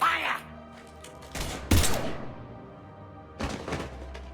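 Gunfire in Mass Effect 3, a few sharp loud bursts with short echoing decays, separated by quieter game ambience and a brief voice.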